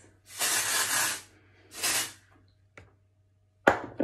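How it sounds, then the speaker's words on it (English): A can of texturizing hairspray is sprayed at the hair roots in two close, hissing bursts, the first about a second long and the second shorter, followed by faint clicks and a sharp tap. "Lift hair, spray, roots, and the same amount"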